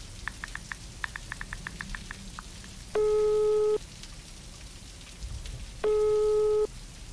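Steady rain patters on a surface as a radio-lesson sound effect, faint and continuous, with two sustained electronic tones sounding briefly at intervals over the downpour.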